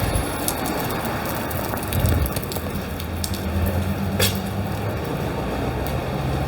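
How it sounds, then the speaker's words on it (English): A steady drizzle of rain in Batumi, Georgia, patters continuously on surfaces nearby, with occasional louder drops and faint bird calls in the background. "It's actually not raining that hard right now, which is kind of nice. It's just a steady drizzle."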